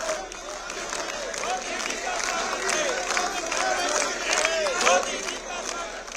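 BJP MPs applaud the Prime Minister's arrival at a parliamentary party meeting in Parliament House in India, with scattered clapping and murmuring voices mixed with shouts throughout.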